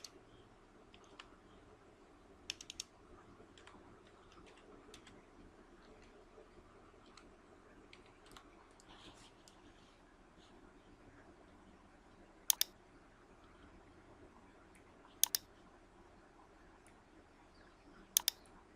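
Soft, faint keystrokes on a computer keyboard patter irregularly over a quiet room hum, with three sharper, louder click pairs spaced a few seconds apart near the end, no voices.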